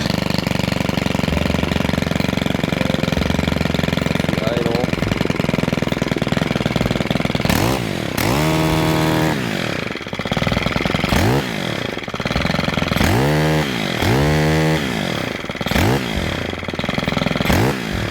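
A small two-stroke engine of a STIHL string trimmer revs up and down repeatedly at high pitch, poorly tuned at high RPM, loud and close, with rising and falling whines between steady idling.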